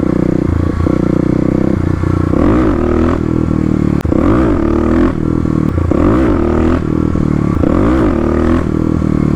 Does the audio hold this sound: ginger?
no